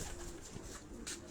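Breeder pigeons cooing in a loft cage: a close, soft, throaty coo repeating in short pulses over a low background murmur.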